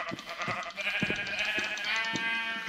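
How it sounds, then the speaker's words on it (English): Sheep bleat in the video game Minecraft, repeated nasal baa calls that are close and fairly loud, one after another with short gaps. "you stupid sheep."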